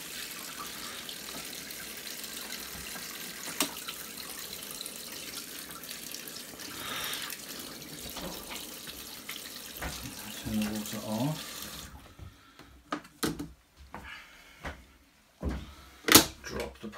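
Water runs through the drain pipe of a Costway mini twin-tub washing machine in a steady trickling rush, then stops and gives way to scattered clunks and handling knocks.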